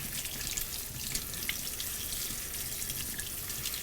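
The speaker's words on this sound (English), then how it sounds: "you just use normal sink water" A robot vacuum's HEPA filter from a Eufy S1 Pro mop-and-vac is rinsed under a running sink tap, with a steady, even splash and rush of water throughout.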